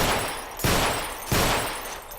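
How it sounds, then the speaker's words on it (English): Pistol fire from the hip in the video game Underhell, aimed at bottles on a SWAT training range: two sharp, loud reports about 0.7 seconds apart, each trailing into a noisy decay. "firing from the hip is not an easy business, especially with a sidearm"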